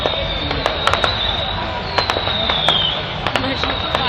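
Fireworks crackle and pop repeatedly at a Bonfire Night display in Nottingham, sharp bangs scattered over a rushing, hissing background, with people talking nearby throughout.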